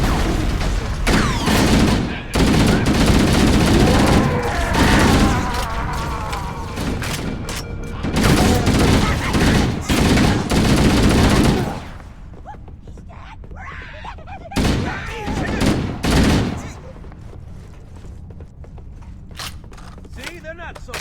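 Gunfire in Halo: Combat Evolved, loud continuous bursts of weapon fire with sharp shots cutting through, then quieter scattered single shots over a lower background, with soldier voices calling out during the fight.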